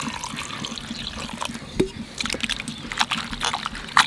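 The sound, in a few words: washing banana stem in water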